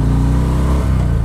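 A Harley-Davidson FXDR 114 engine rumbles loud and close in a short, steady burst, its deep pitch dipping briefly near the end.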